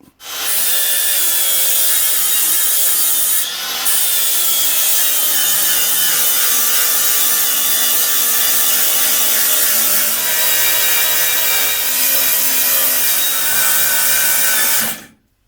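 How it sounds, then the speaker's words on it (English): An angle grinder fitted with a Craft-Rite 80 grit sanding disc grinds steadily for about fifteen seconds, loud and close, with a brief spin-up at the start and a quick wind-down at the end. "They'll fit my grinder just fine."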